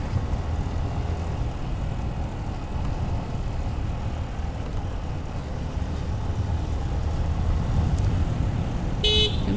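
Car horns honk amid steady road traffic on a Mirpur morning street, heard from a moving Gixxer FI ABS motorcycle, with a short sharp horn blast near the end over the constant engine and road rumble.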